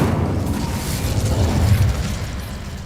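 A fiery Incendio spell from Hogwarts Legacy erupts as a loud, sustained roaring burst with a deep rumbling body that holds steady for nearly three seconds.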